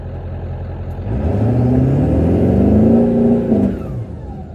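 A 1996 Ford F-250 pickup with the 7.3L engine, fitted with a Quadzilla Power Arachnid tuner, revs up hard and accelerates with rising engine pitch and a rushing whir, tires spinning, then the engine eases off near the end.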